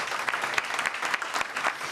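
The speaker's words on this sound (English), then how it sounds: "Please clap, clap, clap, clap, clap." An audience at a youth conversation on voting claps together, a lively patter of many hands with distinct sharp individual claps popping out through the steady wash.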